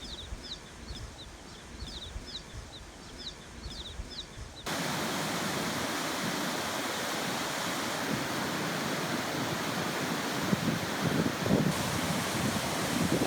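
A river rushing beside the town of Chalet on the Salkantay Trek, a broad steady roar of flowing water heard close and loud, preceded by a quieter stretch with faint repeated bird chirps.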